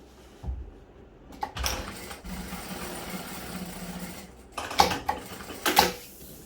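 A sewing machine stitches a straight seam on a fabric cosmetic bag in a few short, close bursts of rapid whirring, separated by quiet pauses and handling noises.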